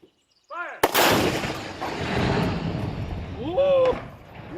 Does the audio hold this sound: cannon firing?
yes